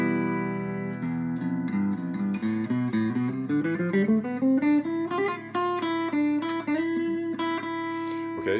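Acoustic guitar in E Phrygian mode, picked as a run of single notes climbing up the scale over ringing low E, clear and close, with no talking.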